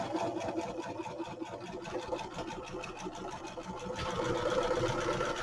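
An older sewing machine stitches journal covers with a rapid, steady mechanical chatter close by, growing slightly louder and busier toward the end.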